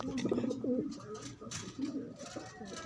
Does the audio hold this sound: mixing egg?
no